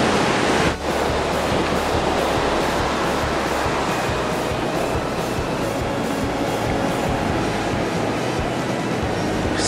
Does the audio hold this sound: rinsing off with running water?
yes